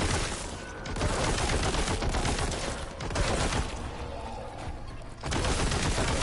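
A heavy bolter from Warhammer 40K: Boltgun on PS5 fires long, loud bursts of rapid, thudding shots, with short lulls between the volleys and no talking.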